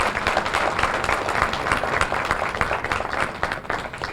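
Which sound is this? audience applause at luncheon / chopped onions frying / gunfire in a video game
audience applause at luncheon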